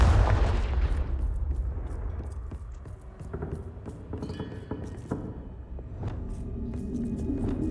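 Confringo fire spell in the Hogwarts Legacy video game: a loud explosive boom that decays into crackling, clinking debris and scattered sharp impacts, dense and close.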